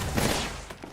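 Dense rapid gunfire in a first-person shooter, loud, close and continuous for a moment before thinning out, with no talk over it.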